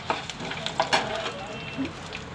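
Dry red chillies fry in hot oil with a crackling, popping sizzle and scattered sharp spits, close and moderately loud, while a voice murmurs faintly underneath.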